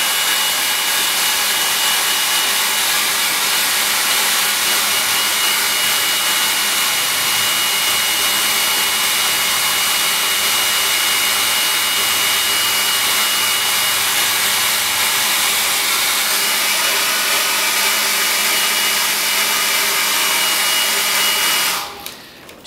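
A hair dryer blows steadily on a watercolour landscape painting, a loud, even, close whoosh that runs without a break for about twenty seconds and then cuts off.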